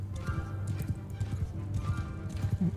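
A horse gallops in Mount & Blade II: Bannerlord, a fast, rhythmic clip-clop of hooves running close by with no talking.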